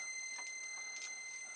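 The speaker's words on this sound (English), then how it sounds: "the ringing noise, but that's the noise that the ESCs make when they're driving the motors" Electronic speed controllers driving the motors of an RC toy tank give off a faint, steady high-pitched ringing whine with soft ticking flutters, quiet and close.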